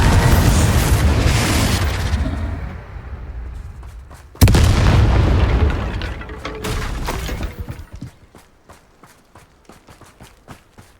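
Spell explosions in Hogwarts Legacy: loud booming blasts and crashing impacts, one sharp burst partway through, then trailing into a rapid scatter of fainter thuds and crackles.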